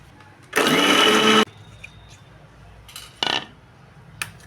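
A mixer grinder grinding garlic and chilli whirs loudly in one short burst of about a second, followed by a couple of brief pulses and clinks.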